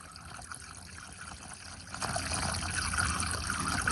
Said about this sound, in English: Now we're gonna add the coolant.